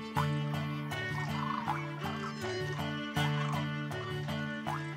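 Large birds with rusty caps in central Kansas give loud, rolling, bugling calls, several repeated bursts in close succession, ringing and harmonic, heard clearly over quiet surroundings.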